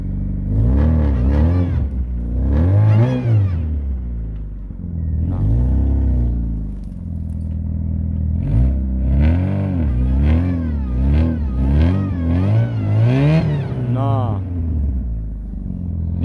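A four-wheel-drive vehicle's engine revs repeatedly in rising and falling surges as its wheels spin on slippery ground near a forest cabin, loud and close, with people talking between the bursts.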